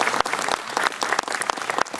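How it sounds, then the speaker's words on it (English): Applause at an evening baseball hitting camp for Coach Schramek: loud, close clapping from a group of players and coaches, with sharp individual claps standing out in an uneven rhythm. "Guys, let's give Coach Schramek a big round of applause."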